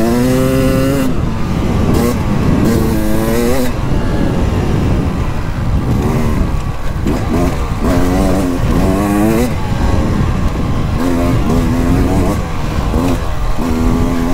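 A 2023 Beta 300 Race Edition two-stroke dirt bike engine runs close and loud, chugging along then revving in repeated rising bursts with a buzzy tone.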